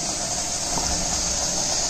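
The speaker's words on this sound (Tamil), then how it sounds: "இட்லி பானையில தண்ணி கொதிக்க வச்சிருக்கோம்." Water boils in an idli steamer pot, giving a steady close hiss with a low bubbling rumble underneath, even and unbroken for a short stretch with no voices.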